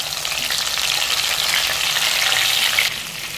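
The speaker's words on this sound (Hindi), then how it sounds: "तेल गर्म हो गया, अभी हम परवल को दे देते हैं।" Pointed gourd (parval) frying in hot oil in a kadai, a steady, loud sizzle that holds evenly throughout and drops slightly near the end, with no talking.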